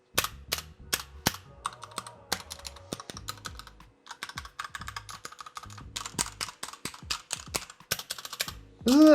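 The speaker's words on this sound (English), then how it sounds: "Listen to that spacebar." Rapid mechanical keystrokes from a Glorious GMMK Pro keyboard fitted with Kailh Red switches, sharp clacks in fast irregular bursts with deeper spacebar and stabilized-key thocks, close and alone with no voices.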